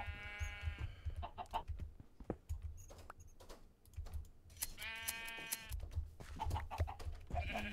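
Sheep and chickens in a Minecraft server game: several quavering sheep bleats and short clucks come in bursts over a quiet background, faint overall.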